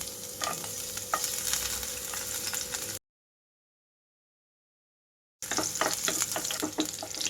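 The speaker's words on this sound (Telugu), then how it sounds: "ఇక్కడ ఆయిల్ హీట్ అయిన వెంటనే ముందుగా వెల్లుల్లి రెమ్మలు వేసేసుకుంటున్నాను" Garlic cloves fry in hot oil with a steady crackling sizzle and a few stirring knocks, cut off by a gap of silence before the frying resumes.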